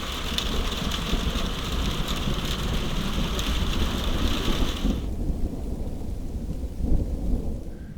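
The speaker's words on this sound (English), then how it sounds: "Rain." Steady heavy rain with thunder while camping in a campervan at Rancin, Croatia, a dense continuous wash of rainfall with a deep rumble underneath, close and loud throughout.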